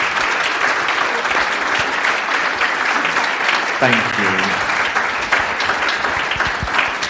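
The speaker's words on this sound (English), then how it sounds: "can we give a massive round of applause for our panellists" A live audience gives a sustained round of applause for a panel of speakers at a wellbeing event, dense clapping throughout with a brief spoken thank-you partway through.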